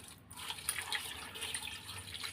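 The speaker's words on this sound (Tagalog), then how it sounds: "Tapos maglalagay tayo ng tubig." Water pours into a cooking pot for fish simmered in vinegar, a soft continuous splashing and trickling with small drips, close by and fairly quiet, without talk.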